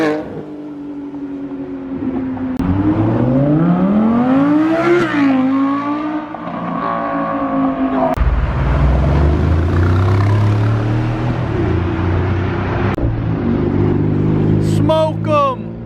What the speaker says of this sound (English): Smoke 'em! Hellcat Red Eye!